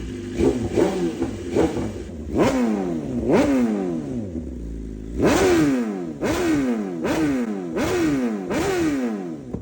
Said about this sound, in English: We got the BMW S1000RR. She spits flames.